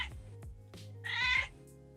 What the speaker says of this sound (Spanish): Ese es mi gato, perdón por la interrupción